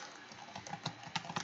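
Someone types on a computer keyboard in a quick, irregular run of light clicks and taps, close and quiet, with no voice over it.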